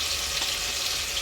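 Onion and garlic fry in a hot pan, a loud dense sizzle that runs unbroken and close, with no voices over it.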